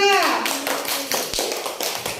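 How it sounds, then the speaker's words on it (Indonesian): A classroom group applauds a student team after a presentation in a teacher-training session: a short burst of many hands clapping, following a brief voice at the start. "Ya, tepuk tangan untuk kelompok 2."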